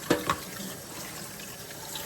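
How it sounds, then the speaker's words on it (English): Tap water running onto hair during a natural hair wash, a soft steady stream of water heard up close after a couple of brief splashes at the start. "I'm gonna put a little water on here and continue."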